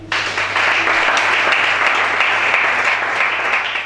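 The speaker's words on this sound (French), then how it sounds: "Acclame Chana." Sustained applause and cheering from a church congregation during a worship service, dense and steady for the whole span with no voices standing out.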